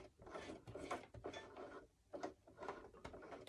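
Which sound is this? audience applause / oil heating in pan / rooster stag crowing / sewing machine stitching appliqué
sewing machine stitching appliqué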